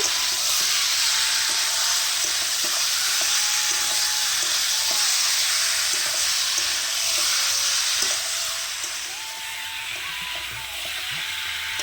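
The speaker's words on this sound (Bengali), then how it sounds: "মাংসটা মানে ভালো করে কষিয়ে নিচ্ছি, একটু ঢাকনা দিয়ে ঢেকে ঢেকে কষিয়ে নিচ্ছি" Country chicken meat frying in a pan over a clay stove, giving a loud, continuous hissing sizzle with faint periodic stirring scrapes, close up and without talk.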